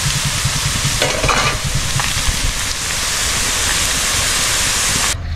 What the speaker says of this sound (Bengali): পেঁয়াজটা কত সুন্দর লাল লাল করে বেরেস্তার মতো ভেজে নিয়েছি, ভাজা হচ্ছে